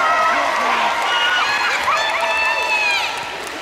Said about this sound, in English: Please give a second round of applause for Miss Sydney King.